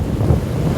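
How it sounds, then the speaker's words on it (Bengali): Steady sea wind at a beach in Mandarmani buffets the microphone with a low, continuous rumble and gusty roar, with no voices over it. "সামনে সমুদ্রের হাওয়া"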